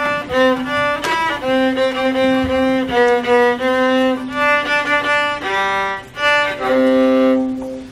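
A viola plays a mid-range bowed tune, warm and slightly lower than a violin, with steady legato notes and a few brief breaks, close and clear.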